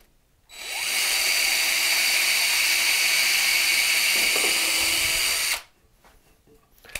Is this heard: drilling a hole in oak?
yes